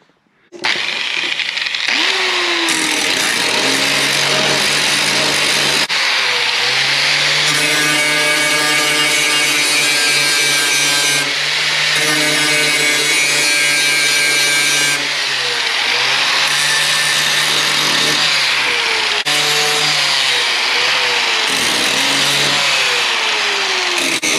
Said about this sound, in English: It can now be ground down and will look halfway decent.